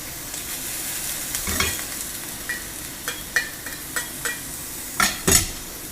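Minced garlic frying with zucchini in a pan for a BBQ side dish, a soft close sizzle under a series of sharp scraping and tapping stirs, irregular and growing busier toward the end.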